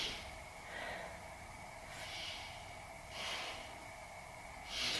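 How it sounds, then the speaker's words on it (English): Deep, slow breaths during a beginner yoga pose, three or four soft airy inhales and exhales close to the microphone, evenly spaced and faint, with no talking. "Let's take 3 breaths here."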